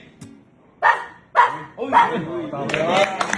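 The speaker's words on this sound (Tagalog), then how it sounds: "Tahol na galit." A dog gives several sharp, loud, angry barks in quick succession, growing more insistent, with brief vocal sounds between.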